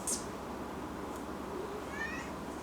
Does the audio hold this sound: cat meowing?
yes